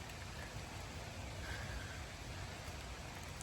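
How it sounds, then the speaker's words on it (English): Steady rain falls outdoors on a rainy day, a faint, even hiss of drops with no talk. "Got us a rainy day today."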